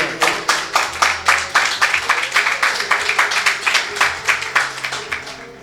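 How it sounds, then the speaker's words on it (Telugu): A worship congregation at a Friday service claps in steady unison, a loud, even rhythm of sharp hand claps running throughout, with a faint low hum of music or voices underneath. "చప్పట్లు కొట్టి ప్రభుని స్తుతిద్దాం"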